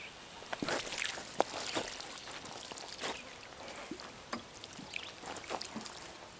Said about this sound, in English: I'm only pouring it on the plants instead of like everywhere